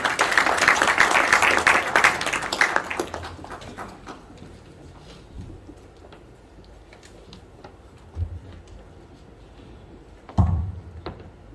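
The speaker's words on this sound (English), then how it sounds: "A round of applause, please." At a cricket association launch event, the audience claps loudly at first, then the applause thins out and fades within about four seconds. A few scattered thumps and taps follow in a quieter room.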